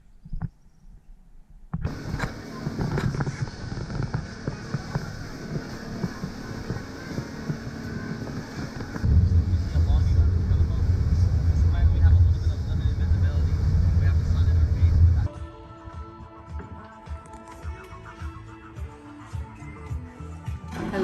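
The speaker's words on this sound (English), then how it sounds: "We're cranking up the engines here, starting to get things going again a little bit." Boat engines crank up and run steadily, a broad low rumble that grows louder partway through with wind buffeting the microphone, then settles into a quieter idle, while someone talks over it.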